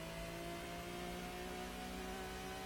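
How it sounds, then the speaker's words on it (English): Race car engine in the Gran Turismo video game, PAL version, a hard-tuned car running in second gear while downshifting ahead of a braking zone; a steady, loud synthesized engine drone with sustained harmonic tones, heard alone. "shifting down early because that's probably the only way I can anticipate my braking zone"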